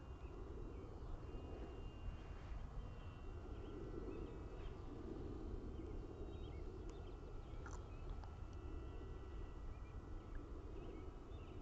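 A UMX Radian remote-control glider flies on a windless day, its small electric motor giving a steady, faint whine over a continuous low rumble for the whole stretch, with no voices.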